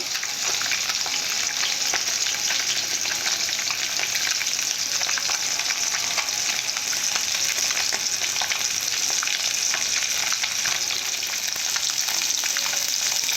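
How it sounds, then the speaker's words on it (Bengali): Pieces of fish frying in hot oil, a dense, even sizzle and crackle that holds steady and loud the whole time, close up with no voices. "মাছগুলোকে ভালো করে ভেজে নেব"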